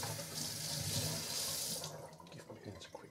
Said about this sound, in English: Give my hands a quick rinse here.